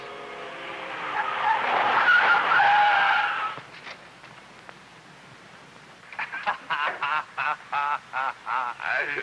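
A car driving fast skids on a street with a long, loud tire screech, then after a quieter pause a run of rapid horn-like honks pulses, close and prominent, with no speech.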